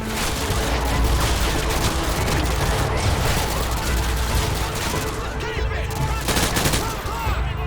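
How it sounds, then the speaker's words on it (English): Heavy gunfire in a Call of Duty: Modern Warfare 2 school battle, continuous loud bursts of automatic rifle fire and booming impacts layered densely throughout, with voices shouting faintly beneath. "We're taking heavy fire from the school."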